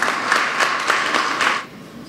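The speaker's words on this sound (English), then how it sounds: "Let us give Mr. Elliott a round of applause." A brief round of applause at a local school tribute for Mr. Elliott, a long-serving headmaster of Charlestown Secondary School, with steady pulsing claps from a gathered audience that fade out after about a second and a half.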